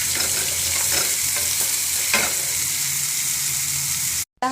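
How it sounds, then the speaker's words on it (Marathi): Finely chopped onion fries in hot oil for a Marathi singadyachi bhaji, hissing in a continuous close sizzle with soft stirring scrapes before a sudden brief cutout at the end. "आणि त्यामध्ये बारीक चिरलेला कांदा घालणार आहे"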